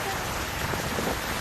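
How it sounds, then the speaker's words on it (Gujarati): Monsoon rain in Amreli district, a loud dense steady hiss of rainfall with no break. "અનેક વિસ્તારોમાં વરસાદ વરસી રહ્યો છે।"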